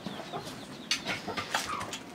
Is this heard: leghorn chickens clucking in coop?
yes